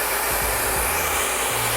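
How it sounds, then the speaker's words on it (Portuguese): Hair dryer blowing steadily and loudly up close, a continuous broadband rush of air held for the whole stretch while hair is brushed, with low motor rumble underneath. "saber usar o secador com as duas mãos"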